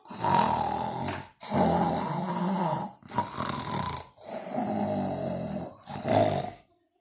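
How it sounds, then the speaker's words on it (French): Loud, close snoring in five long rasping breaths, each separated by a short pause, with no talking. "Bientôt, on n'entend plus que les ronflements."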